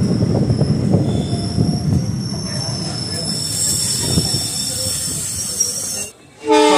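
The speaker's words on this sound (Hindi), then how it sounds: "ट्रेन अराइव होते हुए कुंड स्टेशन पे।" A new train pulling into Kund railway station, loud steady rumble of wheels and rolling carriages with high-pitched wheel squeal above, close and continuous before cutting off near the end.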